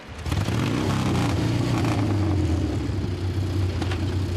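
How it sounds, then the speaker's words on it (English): Triumph TR7 750cc motorcycles of the White Helmets display team, the Royal Signals riders, roar together in an arena, a loud steady engine drone with a deep low rumble. "all riding the classic Triumph motorcycle, the TR7 750cc, built some 15 years ago"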